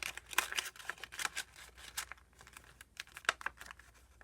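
A sheet of origami paper is creased and folded by hand, giving a series of crisp crinkles and soft taps close up.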